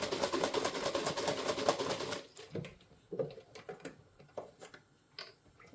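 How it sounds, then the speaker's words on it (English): A lidded container holding about half a cup of water is shaken hard for two seconds, a dense sloshing rattle, followed by scattered light clicks and knocks. "Shake it up really good."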